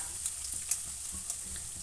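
Peanuts crackling in hot oil for coriander rice, a steady faint sizzle broken by a few soft pops and light stirring scrapes, with no voices.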